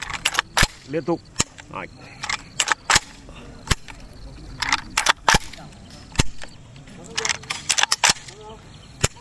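AK rifle shots at a shooting range ring out as sharp single cracks, spaced irregularly, while an instructor talks between and over the shots.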